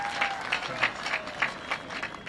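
An audience at a university ground-breaking ceremony applauds in a steady, dense wash of clapping that sounds somewhat distant, with faint crowd voices mixed in.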